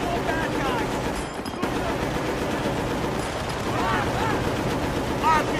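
Mounted machine gun firing in the video game Battlefield: Bad Company, a steady dense clatter of gunfire mixed with battle noise, with voices speaking over it throughout.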